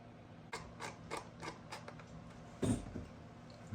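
A wrench snugging a part down on an MCD RR5 build gives a series of light, close ratcheting clicks in a steady rhythm, ending in one firmer metallic clunk, with no voice over it.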